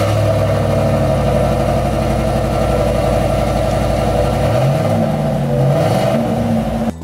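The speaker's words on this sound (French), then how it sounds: "je vous propose d'écouter maintenant la délicieuse mélodie de ce V8." Chevrolet Silverado 6.2L V8 pickup idling loudly close by after a remote start, a steady throbbing rumble that briefly swells with a small rev near the end.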